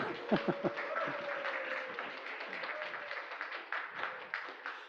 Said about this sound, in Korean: 박수를 쳐도 되겠습니다